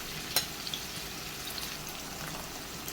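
Green masala chicken, coated in fresh coriander and spices, frying in a pan over a medium flame. It gives a soft, steady, fairly faint sizzle with one brief sharper crackle near the start.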